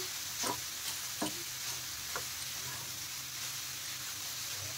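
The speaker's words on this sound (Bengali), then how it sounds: "তা নেড়ে চেড়ে ভালো করে দেখেন মশলার সাথে মিশিয়ে দিচ্ছি" Grated cabbage mixed with spices sizzles softly in a pan for chilli momos, with a steady low hiss and a few faint scraping stirs of a spoon.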